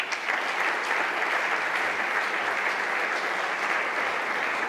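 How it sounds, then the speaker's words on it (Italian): Warm audience applause at a poetry event, a steady, even patter of many hands clapping, moderately loud and unbroken for nearly five seconds. "accetterà di buon grado questo nostro e meritato applauso"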